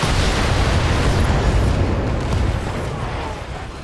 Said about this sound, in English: I'll just fire the LRM-15. One of these 15 missiles are going to hit center torso.